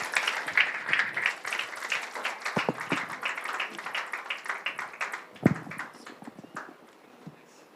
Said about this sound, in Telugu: అందరూ చప్పట్లు కొడొచ్చు, ఆహ్వానం తెలియజేద్దాం.